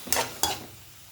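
Green chillies frying in oil in a pan, with two short bursts of sizzling stir noise, each fading into a quieter crackle.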